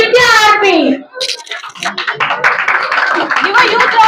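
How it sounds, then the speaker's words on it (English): An audience at a kindergarten fancy dress contest claps for a prize winner, a dense patter of many hands that follows a voice on a microphone, with children's chatter mixed in. "Give a huge round of applause."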